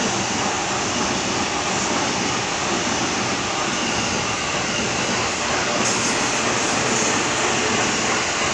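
A long commuter train rolls through Hodogaya station in Japan, a loud, continuous roar of wheels and carriages that holds steady from start to finish with no voices over it.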